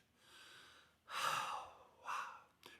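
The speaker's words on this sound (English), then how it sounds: "So first, breathe." A deep breath: a soft inhale, then a stronger, airy exhale and a second shorter breath, ending with a faint click, close and alone.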